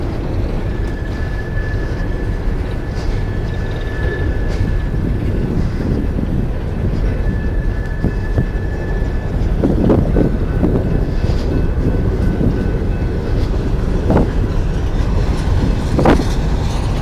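A long coal train passes at Mount Hope, West Virginia, rumbling continuously close by with faint wheel squeal and occasional clanks and knocks from the cars over wind-buffeted ground noise.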